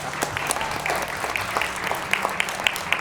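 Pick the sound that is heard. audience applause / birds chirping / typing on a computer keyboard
audience applause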